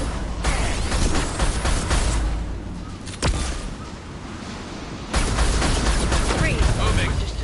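Gunfire in the sci-fi shooter Mass Effect 2, with sustained loud broadband bursts of weapon fire, a sharp crack near the middle, a brief lull, then heavy firing resuming amid battle noise and occasional voices.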